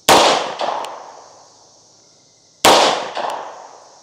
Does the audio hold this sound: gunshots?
yes